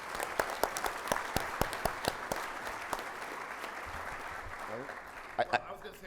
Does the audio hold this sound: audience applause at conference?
yes